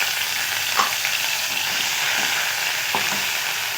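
Ginger paste hisses and crackles in hot oil tempered with five-spice in a Bengali cabbage-with-milk dish, a loud, continuous close sizzle with a couple of faint scraping touches.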